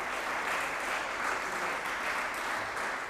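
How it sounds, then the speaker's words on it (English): A crowd at a squash match at the 2021 Scottish Squash Open applauds in steady, sustained clapping throughout, with no voices standing out above it. "The crowd, you can hear, really getting into this one."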